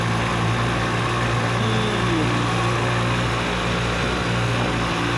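Motorized bicycle fitted with a Jet Turbo engine and a muffler, running steadily at half throttle: a continuous, fairly loud buzzing drone held close for the whole stretch with no break.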